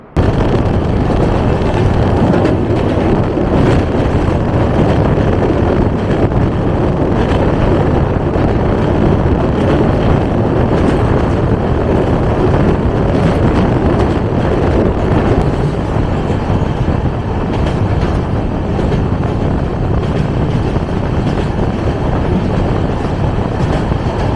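Dhauli Express train running at speed, heard from inside an AC chair car: a loud, continuous rumble and rattle of wheels on track with rhythmic clatter throughout.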